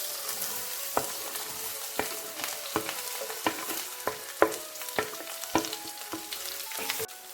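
Chopped jackfruit seeds and dried red chillies fry in a pan for a Kerala jackfruit seed thoran, a steady soft sizzle broken by sharp spatula scrapes and clinks roughly once a second, with no voices.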